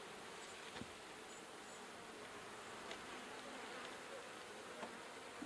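Honey bees buzz steadily and fairly quietly around an open hive during an inspection, a continuous droning hum with a few brief closer passes.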